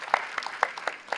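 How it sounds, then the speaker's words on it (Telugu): A small audience claps in a loose, even rhythm, about five distinct bursts in quick succession, moderately loud and slightly distant, with no voices over it. "చప్పట్లు కొడతారా గట్టిగా?"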